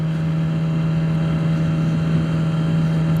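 A Suzuki GSX-R 600 motorcycle engine idles with a steady, close, even hum while the throttle is twisted, and the engine note stays flat with no clear rise in revs.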